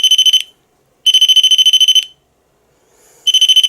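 A door handle alarm device sounds loud, shrill electronic beeps in rapid pulsed bursts, three bursts with silent gaps between them.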